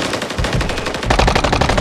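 Rapid automatic gunfire rattles in Call of Duty: Modern Warfare 3, a dense, loud burst of evenly spaced shots that grows heavier partway through.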